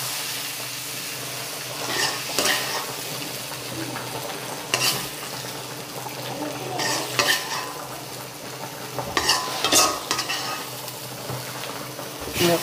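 Vegetables sautéing for sambar sizzle steadily in a pan, with several louder scraping stirs from a utensil spaced through the sizzle; no talking.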